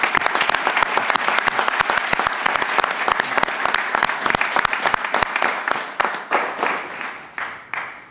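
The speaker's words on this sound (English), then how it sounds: "let's give these kids a round of applause" A crowd at a Board of Commissioners meeting applauds kids and their families, dense steady clapping for several seconds that thins into a few scattered, separate claps toward the end.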